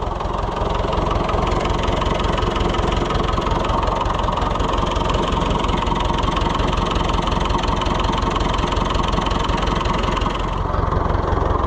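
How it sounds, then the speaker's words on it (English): David Brown 990 diesel tractor idling in neutral, a loud, close, steady low rumble with a constant knocking chug throughout and no talk. "They are just such sweethearts, those little David Brown diesels"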